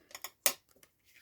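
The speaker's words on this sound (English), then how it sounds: "Cut those corners so it'll" Scissors snipping the corners of journal paper, with a couple of light snips followed by one sharper, louder cut and a few faint clicks. The sound is close and quiet, with no talking.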